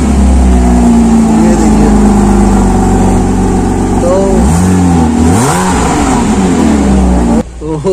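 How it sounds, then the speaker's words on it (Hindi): A luxury car at a used luxury car showroom revs its engine, producing a loud, close exhaust drone that sweeps up and down through several rising and falling revs before cutting off abruptly. "इसका हम आपको एग्जॉस्ट सुनाते हैं"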